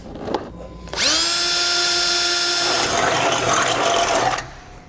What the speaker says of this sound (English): I'm going to start with a small drill bit, drill a pilot hole first